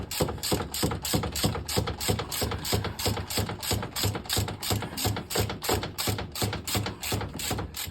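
A hand ratchet wrench clicks in quick, even strokes as bolts are snugged onto a plate on a Ford Zephyr hot rod. The ratcheting is close, steady and continuous throughout.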